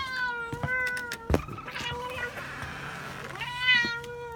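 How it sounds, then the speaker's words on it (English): A Bengal cat meows repeatedly and close by, with several drawn-out, talkative cries separated by short pauses, plus a brief knock or tap in between. "This is a talking cat."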